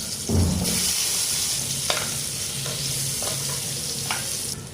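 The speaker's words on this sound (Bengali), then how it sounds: "সবার আগে আমি আলুগুলো ভেজে নেব" Potatoes fry in mustard oil with turmeric, giving a steady close sizzle broken by a few spatula scrapes and knocks against the pan, with no one speaking.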